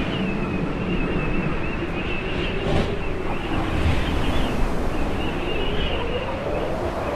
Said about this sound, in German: dass so echt immer Wind hier überall ist